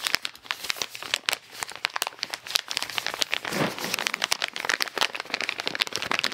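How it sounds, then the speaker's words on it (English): Snow and ice sliding and falling off a roof, a steady dense crackling and rustling wash with scattered sharper crunches, continuous throughout with no talk. "That's all the snow and ice falling off the roof from yesterday."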